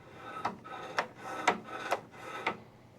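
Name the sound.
snowblower auger engagement cable moving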